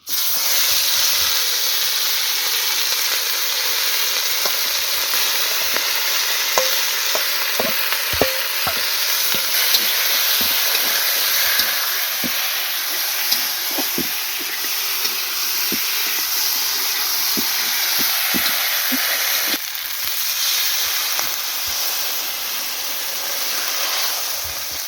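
Chicken pieces hitting hot oil in a village kitchen pan while cooking biryani, raising a loud, constant hissing sizzle with frequent sharp clicks of stirring throughout, no talking.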